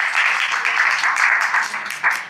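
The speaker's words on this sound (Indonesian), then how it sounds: "Kita sekali terakhir tepuk tangan dulu dong" An audience at an Indonesian religious talk about fasting claps in steady, dense applause. It is fairly loud and continuous for a couple of seconds, with no talking over it.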